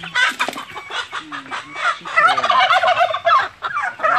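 Turkeys gobble and chatter close by, their rapid warbling calls overlapping with clucking from chickens in a farmyard flock, busy and loud across the whole stretch.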